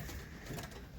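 A pigeon in a loft gives a low, soft coo close by, a short muffled murmur that lasts about a second.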